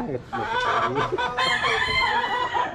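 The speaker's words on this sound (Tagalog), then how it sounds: "Marami pong alagang manok si tatay Florito." Chickens cluck close by while a rooster crows loudly over them, with brief bursts of overlapping calls and faint voices underneath.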